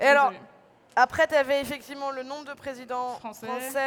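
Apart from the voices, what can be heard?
No distinct noise like a dog, phone or traffic.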